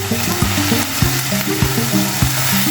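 Spices including black pepper, crushed red chili and onion powder sauté in a pan for a creamy chicken patty filling, sizzling steadily with regular spoon scrapes and knocks, over a faint musical bed.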